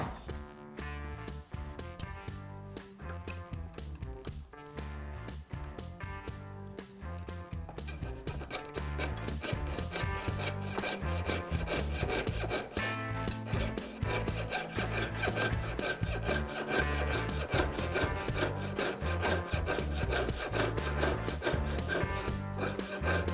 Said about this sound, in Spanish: Ajustamos bien para que no se nos vaya a romper el pelo de cegueta y comenzamos a calar por todo el borde del corazón